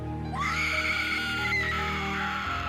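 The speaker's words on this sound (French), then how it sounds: "À l'extérieur, on entendit la jeune fille hurler de terreur." A young girl screams in terror as an audiobook sound effect, one long shrill wavering cry over a sustained musical backdrop, loud and close.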